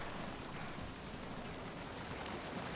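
Steady rain falls in The Last of Us Part II, a dense, even hiss of drops on the ground that stays constant and fairly loud throughout, with no voices.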